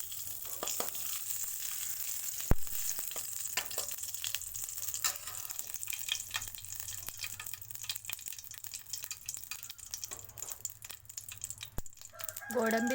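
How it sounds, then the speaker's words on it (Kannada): Cashews and raisins frying in ghee for kesari bath, a steady close sizzle with scattered stirring clicks and scrapes running throughout, fairly quiet, no talk over it. "ಗೋಡಂಬಿ ದ್ರಾಕ್ಷಿಯನ್ನು ಹಾಕಿ ಫ್ರೈ ಮಾಡಿ ತುಪ್ಪದಲ್ಲಿ"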